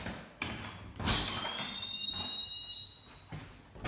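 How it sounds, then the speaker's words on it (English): A weak alarm sounds as a porch door is unlocked and opened at a house, a thin high electronic tone holding steady for about two seconds between door knocks and clunks, fairly close. "That's the poorest excuse for an alarm which I can find."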